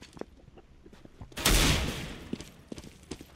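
One loud shotgun blast from a CS:GO match rings out close and decays over about a second, with quieter game clicks and footsteps around it.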